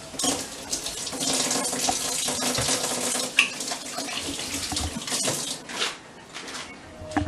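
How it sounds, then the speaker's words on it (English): Tap water runs steadily into a sink as hands are washed under it, a continuous close splashing hiss with small irregular spatters and no talk. "the first thing to do is always wash your hands"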